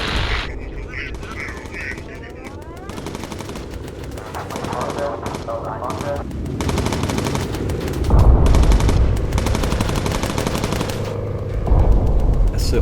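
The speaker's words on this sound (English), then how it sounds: "These turrets can actually run out of ammo." Machine guns firing from bomber turrets in the Bomber Crew video game, long sustained bursts of rapid loud gunfire with brief gaps, over a steady droning engine rumble.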